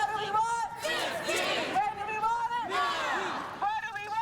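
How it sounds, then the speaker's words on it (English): Protesting crowd of fast food workers in downtown Boston, a continuous mass of voices chanting and shouting together in rising and falling waves, loud and steady throughout. "Nationwide protest by fast food workers disrupts traffic in downtown Boston."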